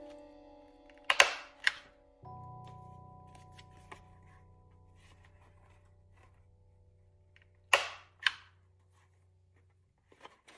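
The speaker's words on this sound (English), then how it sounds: "I like to take a corner rounder and round the edges" Two pairs of sharp punch clunks from a corner rounder biting through paper edges, crisp and close, separated by a quiet stretch with a faint low hum in between.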